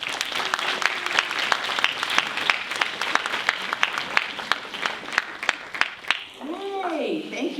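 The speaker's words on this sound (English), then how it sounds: "Why don't we give them a round of applause as they come up?" An audience at a summit event applauds steadily with dense overlapping claps for several seconds, ending as a voice starts speaking.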